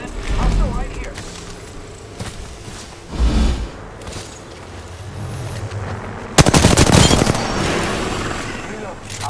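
Rapid bursts of automatic gunfire from the battle royale video game Apex Legends, loud and close, with a heavier volley of shots near the end and a voice talking over the firing.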